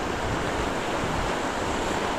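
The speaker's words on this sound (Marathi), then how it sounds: "पाणी ना खूप वाहत आहे" A steady, dense rush of fast-flowing, muddy river water in Konkan fills the whole stretch, loud and continuous with no pauses.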